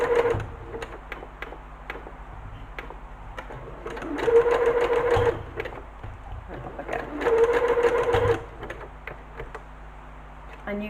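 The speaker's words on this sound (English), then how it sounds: "So we're going to stitch a few stitches." A sewing machine stitches in short bursts, close and clear, its rapid mechanical chatter rising and falling across several runs with quiet pauses between them.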